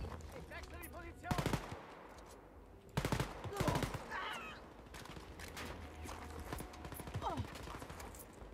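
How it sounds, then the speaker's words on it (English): Automatic gunfire in the shooter game Wolfenstein: Youngblood comes in sharp, rapid bursts, with several loud volleys and scattered shots over a low game backdrop, and a voice is briefly heard between the bursts. "Who's shooting at me?"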